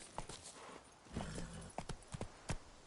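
Horse hooves clip-clop at a steady trotting rhythm in The Witcher 2, fairly close and clear, with a faint shout and no other talk over them.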